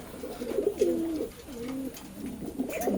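Teddy pigeons of an imported bloodline coo nearby in a repeating run of soft, throaty calls, moderately close, with no talk.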